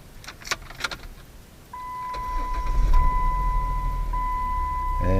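2010 Jeep Wrangler with a manual gearbox starting after a key repair: a few clicks and key jangles, then a steady electronic tone, then the starter cranks and the engine catches into a rising, rumbling idle, close to the listener.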